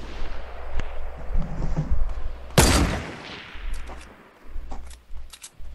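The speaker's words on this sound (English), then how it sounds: "Who's firing into the sky again?" Gunfire rings out during a Fortnite Battle Royale match: scattered distant shots, then one sharp loud blast, followed by fainter scattered pops and clatter.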